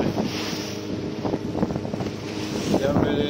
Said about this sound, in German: So, wir befinden uns bereits auf dem schnellen Boot.